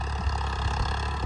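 A Farmtrac 60 F17 diesel tractor engine runs steadily at close range with a constant low mechanical rumble and no pauses, heard alone during harrow work.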